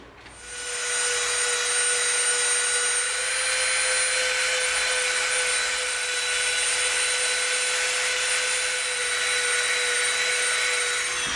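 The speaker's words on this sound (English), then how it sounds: "Now we're going to come in with our Dremel and we're going to soften up the outside." A Dremel rotary tool runs steadily, smoothing and softening the outer edges of an EVA foam prop piece for a Star Trek phaser rifle, with a high whine that holds for about ten seconds after a brief start-up and no talking.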